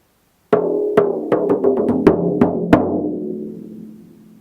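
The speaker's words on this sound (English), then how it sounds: "you can hear a glissando effect in the overall pattern that could sound like this." Solo percussion pattern of resonant struck hits, about eight strikes bunching closer together so the overlapping pitches blur into a glissando effect, then a long ringing decay fading out, alone and close.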